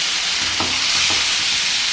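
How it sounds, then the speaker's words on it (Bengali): Home-grown aromatic rice and mung dal are stir-fried in a pan, giving a close, steady sizzle with two distinct scrapes of the spoon, no voices. "বেশ নেড়ে চেড়ে ভাজতে হবে অনেকটা সময় ধরে।"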